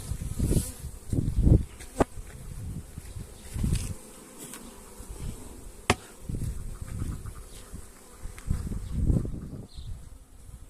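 Honey bees buzz steadily at an apiary, a close, low drone with insects drifting near and away, plus a few soft knocks and handling sounds.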